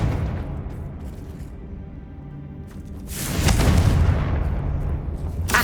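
Confringo blasting spell going off in the Hogwarts Legacy video game on PS5: a loud, close burst that swells into a broad roaring blast midway, over a rumbling game soundscape.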